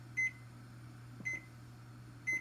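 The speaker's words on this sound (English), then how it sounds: "Let's do the timer." A kitchen timer on an oven emits three short, evenly spaced beeps about a second apart, clear and close over a steady low appliance hum, with no talking.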